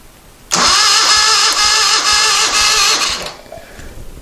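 A 1973 Moto Guzzi motorcycle that sat off the road for 40 years cranks over with the key on, a loud close whirring starter drone with a pulsing rhythm that lasts about three seconds, then fades.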